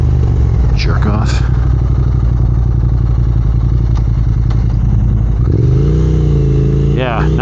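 A 2022 Triumph Speed Twin motorcycle accelerating hard, its loud engine drone rising through the gears with a shift change midway, close and continuous, with wind noise over it.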